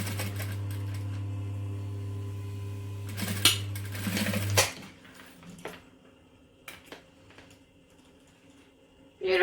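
A sewing machine runs a steady close hum while stitching a second line along a bag strap, stopping around the midpoint, followed by a few handling clicks and rustles.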